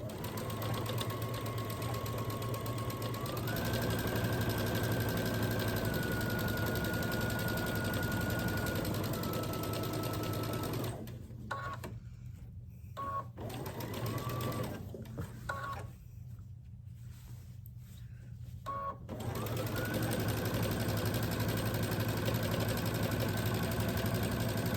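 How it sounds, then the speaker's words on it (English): Sewing machine stitching quilt blocks together, a steady fast mechanical whir running in long bursts that pause twice, then resume, close and fairly quiet. "I'm sewing them together just like I did each block"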